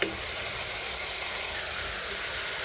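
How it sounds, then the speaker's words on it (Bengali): Chopped onions and green chilies fry in a pan for vegetable khichuri, giving a steady, close broadband hiss and sizzle with no talking. "আমি এখানে পেঁয়াজ আর কাঁচামরিচ ভেজে নিচ্ছি"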